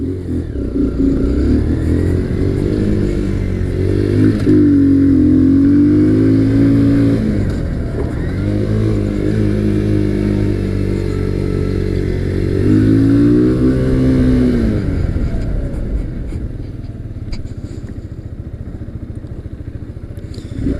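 A Kawasaki Z125 motorcycle lapping a training school track, its small engine droning loud and close for the whole stretch, rising and falling in pitch as the rider throttles up and eases off through turns.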